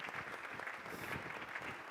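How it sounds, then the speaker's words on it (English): An audience applauding athletes at a sports summit, steady crowd clapping heard faintly at a distance and sounding muffled, as if through a venue sound system. "Let's clap for them."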